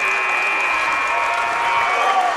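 Basketball fans in a gym cheering and applauding at a championship game, dense, steady clapping and crowd roar filling the space for a couple of seconds with no break.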